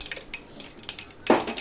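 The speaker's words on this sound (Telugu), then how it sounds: "తర్వాత అందులో ఆవాలు జీలకర్ర వేస్తున్నాము." Mustard seeds and cumin tipped into a hot pan while cooking cauliflower fry: light metallic clinks and taps, then a sudden louder rattle and crackle as the seeds land, with no talk.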